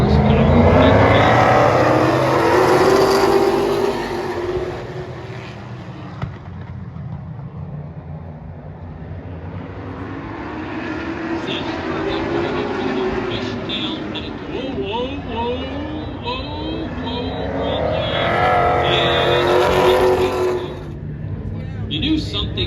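Steel-bodied hot rod race cars at Sauble Speedway roar past in loud waves, engines rising and falling as they circle the oval, with an announcer talking over the racing.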